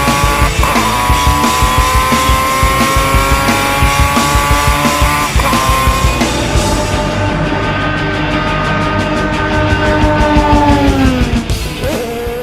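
High-performance vintage race car engines roar loudly and continuously at a vintage auto racing event, with revs rising and falling as cars pass close by, the sound steady and dense throughout with no talk.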